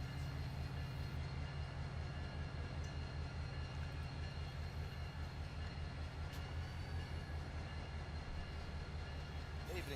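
A heavy freight train with four powered locomotives rumbles steadily in the Run8 railroad simulator, a loud, constant low engine drone with rhythmic throbbing and faint metallic clicks throughout.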